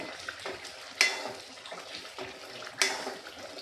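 Coriander leaves being rinsed under running water in a kitchen sink, a steady splashing flow with two sharper spattering bursts, no voices.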